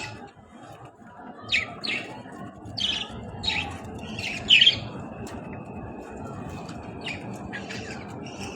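Budgerigar chicks chirp in short bursts, a few high squeaky calls spaced over several seconds against a low background hum.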